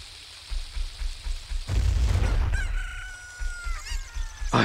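A chicken in The Legend of Zelda: Ocarina of Time squawks and clucks loudly in a short burst, following a rumbling game noise and a steady background loop.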